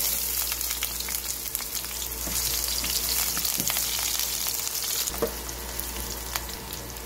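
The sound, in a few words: garlic and onion sautéing in pan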